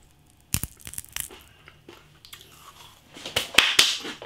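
Loud, close crunching of Smith's Bacon Fries, a crispy bacon-flavoured snack, being bitten and chewed, in irregular bursts that grow louder toward the end.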